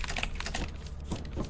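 Rapid keyboard typing on a computer keyboard during an online Lethal Company game session, a dense run of close clicking keystrokes over a steady low background.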